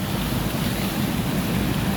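Typhoon floodwater from the Marikina River spills over the riverbank near Marcos Bridge: a steady, loud, broadband rush of churning water with a wind-like roar, continuous and unbroken throughout.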